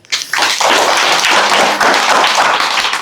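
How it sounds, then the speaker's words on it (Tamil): Audience clapping at a Tamil farmers' talk on natural remedies for udder disease in dairy cows, a dense, steady burst of handclaps lasting about three seconds with a short dip midway. "இவர் தாங்க ஜோராக கைத்தட்டுங்க"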